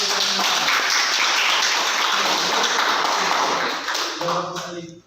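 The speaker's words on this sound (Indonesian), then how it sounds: "Oke, tepuk tangan dulu." Students in a fiqh classroom lesson giving a round of applause, a dense, close burst of many hands clapping that holds steady and then tapers off at the end.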